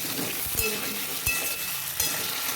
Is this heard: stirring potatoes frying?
yes